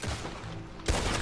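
A short burst of gunfire in a Red Dead Redemption 2 shootout, a dense crackle of shots followed by a sharp loud report near the end.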